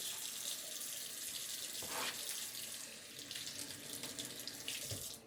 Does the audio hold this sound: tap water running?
yes